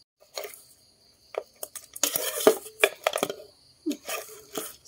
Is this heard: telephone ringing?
no